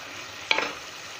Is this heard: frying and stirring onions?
yes